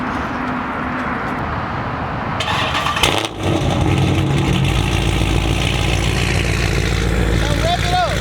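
The engine of a 2021 Dodge Charger Hellcat Redeye starts and settles into a loud, deep idle, with people talking over it close by.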